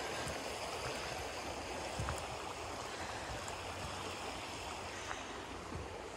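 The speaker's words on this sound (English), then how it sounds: "All that water just streaming." A mountain stream flows over and through rocks near Cataract Falls in the Great Smoky Mountains, a steady rushing wash heard from close by with no talking.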